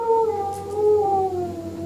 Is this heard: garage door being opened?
no